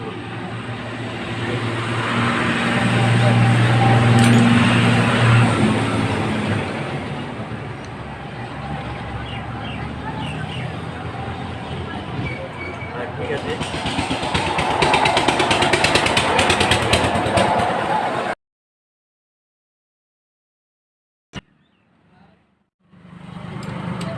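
An engine runs steadily and loudly after a tappet adjustment, a dense rough roar that holds for about eighteen seconds before cutting off abruptly, followed by near silence and a faint restart.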